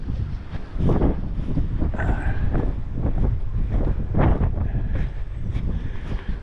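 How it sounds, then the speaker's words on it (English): Outdoor wind buffets the microphone in steady, heavy rumbling gusts, loud and close throughout with occasional stronger blasts, and no one speaks. "I guess I can't get out of the wind"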